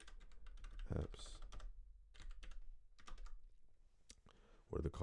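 Quick bursts of clicking keystrokes on a computer keyboard, close and crisp, come in short irregular runs with brief pauses, as a SQL query is entered in a code editor.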